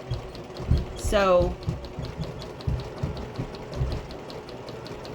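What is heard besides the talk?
sewing machine stitching two fabric pieces together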